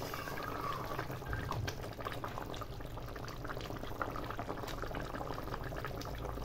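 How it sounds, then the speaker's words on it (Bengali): Rohu fish simmering in a Noakhali-style mustard gravy, a steady soft bubbling and gentle spitting of the liquid in the pot, faint and continuous throughout. "মাছগুলোকে দিয়ে মোটামুটি 5 থেকে 7 মিনিট ফোটাতে হবে"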